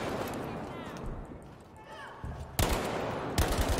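An StG rifle fires in Battlefield V amid battlefield noise, with distant gunfire early on, then loud close automatic bursts near the end over a constant rumbling din. Someone talks over it.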